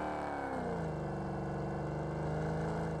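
A motorboat engine in the Fortnite video game drones steadily and loudly for the whole stretch, a continuous close mechanical hum with no talking.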